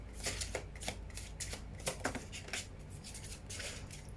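Tarot cards being shuffled by hand for a single-card draw, a close, continuous riffle of papery flutters and soft slaps in quick repeated bursts, with no voice over it.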